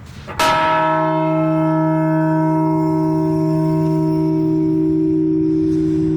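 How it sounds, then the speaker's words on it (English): A Liberty Bell replica at Morristown City Center is struck once, ringing out with a single loud clang followed by a long, steady humming tone that fades slowly. "Here's the Liberty Bell at the Morristown City Center. We're going to go ahead and dong this one time."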